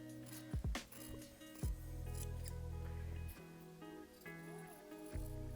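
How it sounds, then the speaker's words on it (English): Scissors trimming fabric seam allowance on an embroidered blouse collar, a few quiet close snips and sliding cuts with soft handling noise between them. "I'm going to cut down the seam allowance all the way down to the collar"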